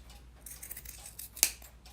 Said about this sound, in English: you're just going to take your fabric scissors and you're just going to cut